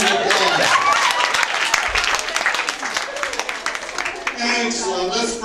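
A crowd at a sorority chapter event claps and cheers loudly, sharp dense applause that starts right away, eases slightly near the end, with a voice speaking over it.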